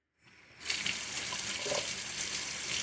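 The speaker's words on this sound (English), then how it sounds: "So let me turn on the water." A Moen Arbor pull-down kitchen faucet turned on, water hissing after a brief rising start, then pouring in a steady, loud, close gush into the sink with no talk.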